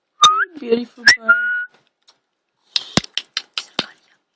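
A Quaker parrot gives a quick gliding whistle with a sharp click, then after a pause a rapid run of clicks and chirps, close by and alone in a quiet room.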